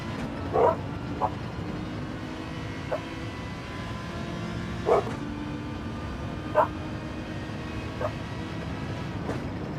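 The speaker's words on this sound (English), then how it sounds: "I'm sorry about the dogs barking." Two dogs in the room bark in short, scattered bursts, about half a dozen sharp yips spaced several seconds apart over a constant low drone of racing-game engines.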